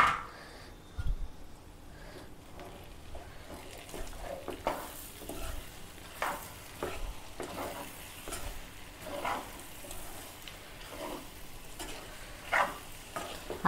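Mutton liver frying in oil in a pan, with a steady soft sizzle and intermittent scraping stirs of a utensil throughout, close and moderately quiet with no talking.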